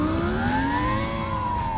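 A SoundRacer gadget imitating a Lamborghini Gallardo V10 engine revving, a steady synthetic engine tone whose pitch climbs slowly and holds high, loud and close, with no talk.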